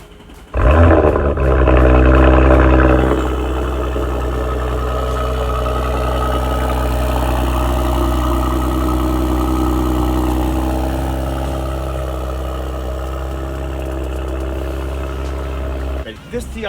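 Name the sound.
Audi RS5 3.0-liter turbocharged engine with Capristo valve exhaust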